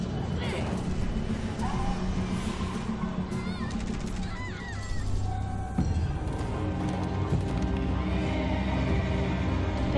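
Several horses neigh and whinny over a steady soundscape from The Walking Dead Season 3 video game with hoof clip-clop, while a voice talks intermittently.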